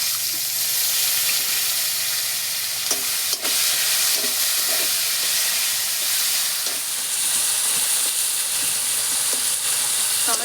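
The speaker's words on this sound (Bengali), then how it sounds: "টমেটোটা আমার ভালো ভাজা হয়ে গেছে" Chopped tomato frying in oil with whole cumin in a pan for a silver carp curry, a constant close, even sizzle and hiss broken by occasional soft stirring knocks.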